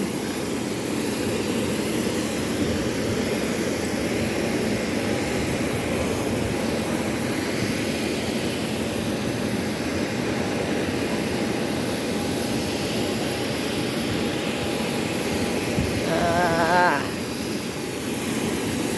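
Steady jet engine roar fills the cabin of a Nok Air flight from Sakon Nakhon to Bangkok, a loud continuous drone that holds throughout, with a brief higher tone near the end.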